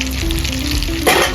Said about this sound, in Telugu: కొద్దిసేపు మరగనిద్దాం.